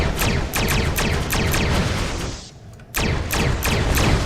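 Photon torpedoes launch from a starship in Star Trek Online, a steady, rhythmic volley of loud punchy discharges that pauses briefly midway, then resumes at the same pace.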